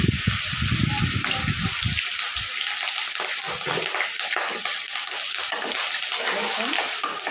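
Potatoes fry in hot oil with bay leaf, cloves, green and black cardamom and cinnamon, a loud continuous hiss and sizzle with a burst of spattering at the start, running steadily without a break.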